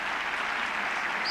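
Football crowd in a stadium applauds a player leaving the pitch during a Belenenses versus Benfica match, a brief, dense, distant wash of clapping with no talk.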